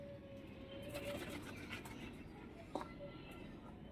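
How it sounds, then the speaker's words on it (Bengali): Domestic pigeons coo softly nearby, a faint low warbling call repeating under quiet background sound and occasional soft voices. "ওই যে আমাদের পায়রা, আমার আব্বার পায়রা"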